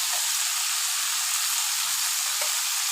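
Soybeans and sweetcorn stir-fry in a hot pan, a continuous close, bright sizzle with faint stirring knocks underneath.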